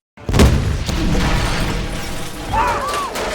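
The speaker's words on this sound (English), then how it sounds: "an explosion rips through the vehicles, scattering debris and bodies across the sand." An explosion tears through a military convoy of vehicles on desert sand during an ambush in the Iron Man film, with a sudden loud blast followed by a sustained rumbling roar of debris and a brief whining tone near the end.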